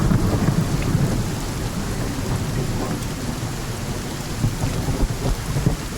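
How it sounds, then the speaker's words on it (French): Sudden downpour in a forest with heavy rain drumming steadily and deep rolling thunder rumbling underneath, dense and continuous throughout. "un déluge s'est soudainement abattu dans la forêt"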